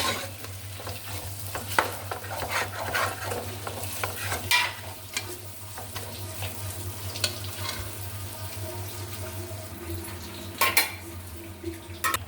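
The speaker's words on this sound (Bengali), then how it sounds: "লেগে যেন না ধরে এভাবে নাড়তে হবে" Spice masala for korma being stirred and fried in a pan: continuous close sizzling with repeated metal spoon scrapes and clinks against the pan, no talk.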